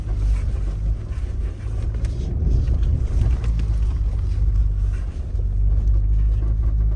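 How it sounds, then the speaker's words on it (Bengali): A car engine labours up a snowy mountain road near Munsyari, giving a loud, steady low rumble mixed with wind and road noise throughout, with no talking. "তো চলো, আমাদের গাড়ি একবারেই উঠে গেছে।"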